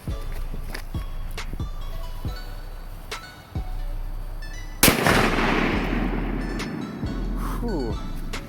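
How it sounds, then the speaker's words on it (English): A firecracker set in sand bursts with one sharp, loud crack about midway, leaving a hissing decay, after several softer thumps and some background talking. "Alright, Shasta cracker in the sand"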